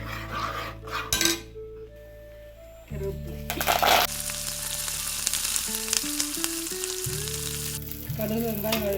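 Mustard seeds and onion fry in a pan for a tangy greens dish, a continuous hiss with clinks and stirring from a utensil against the pan, while music plays over it.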